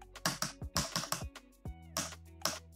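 Brisk typing on a computer keyboard, close and distinct, a quick irregular run of key clicks with a short pause before a few more strokes, and no voices.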